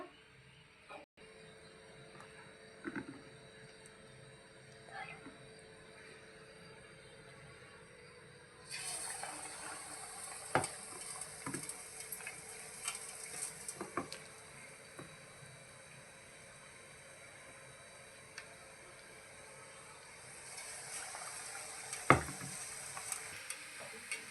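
Ugani bajji fritters fry in hot oil with a soft, steady sizzle that grows brighter and busier partway through, marked by occasional light clicks and taps of utensils, fairly quiet overall.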